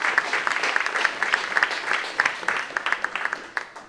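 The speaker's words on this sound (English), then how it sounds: "Give yourself a round of applause." A seated audience at a webcast event breaks into steady applause, a dense patter of claps that thins out toward the end into scattered individual claps.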